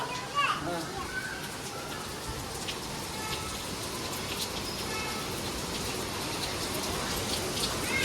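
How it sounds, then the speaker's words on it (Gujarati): Steady rain patters and hisses on surfaces all around while children's voices and chatter carry through underneath. "સરસ મજાનો વરસાદ છે હો ભાઈ"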